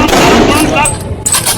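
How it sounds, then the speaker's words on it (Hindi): Police fire gunshots on a street in Uttar Pradesh, producing a loud, close, continuous burst of rough, crackling blasts that fills the short moment. "पुलिस गोलियां दाग रही है"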